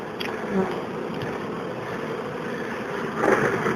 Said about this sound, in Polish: Trochę tu dużo pszczół w tym ulu jest